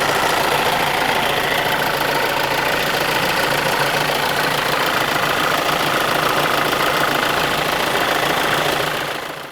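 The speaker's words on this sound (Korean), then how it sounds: "엔진 소리 좋다" A diesel car engine idles loud and close with a dense, knocking rattle from the flywheel, running steadily until it fades slightly at the very end, and no one speaks over it.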